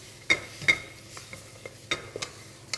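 Turmeric stirred into lamb bones browning in a pan for meatball dalcha: a few distinct scraping strokes and clinks over a soft, steady sizzle, close and alone.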